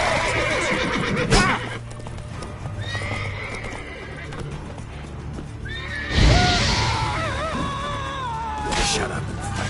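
A horse in a video game neighs loudly twice amid clip-clopping hooves, the whinnies rising and falling sharply over a continuous trotting rhythm, with a voice heard under the action.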